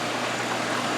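Close, steady rush of water bubbling and being pumped inside a garden greenhouse, a dense continuous gurgle with no talking.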